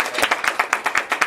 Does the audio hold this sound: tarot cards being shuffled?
no